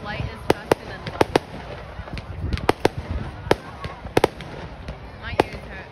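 Fireworks bursting at a Canada Day celebration: a series of sharp, loud booms and crackles at irregular intervals, some in quick pairs, with people talking in the background between the blasts.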